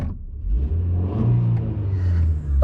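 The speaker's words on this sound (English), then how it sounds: "Should I rev at him?" A muscle car engine revs up and holds a deep, throaty roar close by, rising and settling over a few seconds in an outdoor bowling stunt setting, with no talk.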